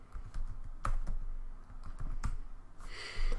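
Keys on a computer keyboard are tapped quietly and unevenly as a command is typed into a virtual machine, with scattered clicks and a brief burst of faster keystrokes near the end.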